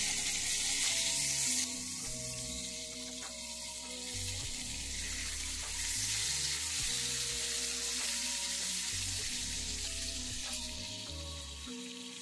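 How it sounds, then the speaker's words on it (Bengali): Fish frying in mustard oil in a pan after being flipped, a steady loud sizzle running throughout with a harsher burst at the start, no talking. "মাছগুলো আমি এবার উল্টে দেব।"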